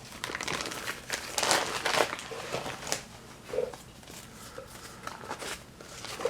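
Silver nitrate paper wrapping a Saab 9000 B234I camshaft sprocket crinkles and rustles in close, uneven bursts as it is handled and unwrapped.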